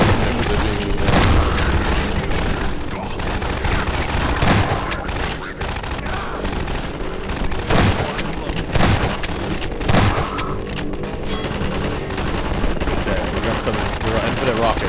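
Loud, dense combat in Half-Life 2: repeated rocket launches and explosions mixed with rapid gunfire, booming bursts recurring every few seconds, with voices faintly under the din.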